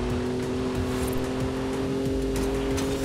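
A Ford Bronco's engine in Forza Horizon 5 drones at a steady, loud pitch throughout while driving off-road, with faint tire and road noise beneath and no voices.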